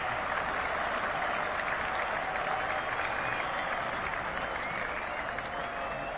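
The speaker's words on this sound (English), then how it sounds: "Probably deserves more applause than that." Cricket crowd at an England versus India Test match in Birmingham applauds a fielder's catch in the gully: steady, dense, distant clapping from a large stadium audience, sustained evenly throughout without break.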